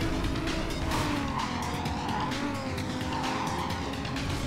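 A car approaches in the racing game Need for Speed Carbon, its engine roaring steadily with tire noise and a rising, sweeping pitch, loud and continuous throughout without any talking.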